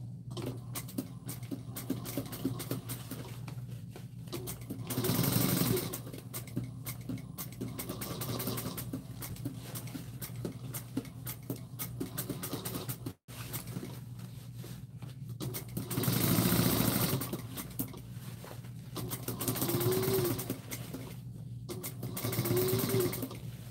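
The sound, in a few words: sewing machine stitching fabric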